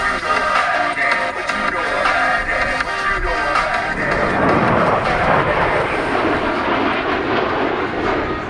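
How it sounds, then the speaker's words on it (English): Blue Angels 5 and 6 jets approach the flight line at 400 mph during the NAF El Centro airshow, a loud, steady jet roar that swells and broadens as they close in. "Behind the spectator area, Blue Angels 5 and 6 are approaching the flight line at 400 miles per hour."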